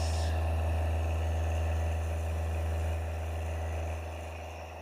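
A custom-built toroid coil motor spinning at 4,800 RPM gives a steady, loud low hum with a whirring drone, slowly fading over a few seconds.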